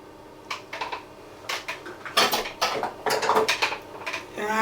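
The last egg is cracked into a mixing bowl for a homemade custard tart, a quick run of sharp taps and clicks against the rim with a soft splat, close and fairly loud with no talking.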